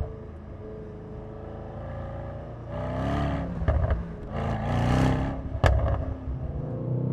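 A Mercedes-AMG GT63S drives on the road, its engine droning steadily from inside the cabin, then surging into loud revving accelerations with rising whine and sharp gear-change blips.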